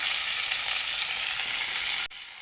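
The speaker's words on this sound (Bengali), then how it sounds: "এখন আমি একটু নাড়ি ভালো করে বন্ধুরা এখন এখন আমার মাছ ভাজা হয়ে গেছে" Pieces of rohu fish fry in hot oil in a pan, giving a loud, steady, close sizzle that abruptly drops to a quieter hiss near the end.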